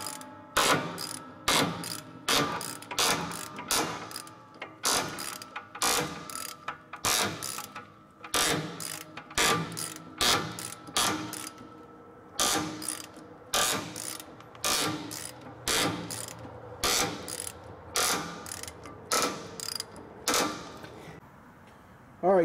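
Repeated ratcheting clicks from backing off a slack adjuster on a semi truck brake, turning the cam before drum removal, loud and close, in regular bursts of rapid mechanical clicks.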